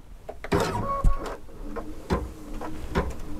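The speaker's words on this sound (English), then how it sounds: "all I need to do is at the machine, I'm going to lower the presser foot, I've threaded it up with orange thread" An embroidery sewing machine threaded with orange thread runs with mechanical whirs and irregular clicking, thumping stitch sounds, close and moderately loud, with no speech.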